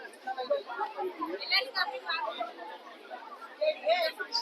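Murmur of many overlapping voices from a crowd waiting in a long queue at a Hindu temple, a steady close babble with no single voice standing out.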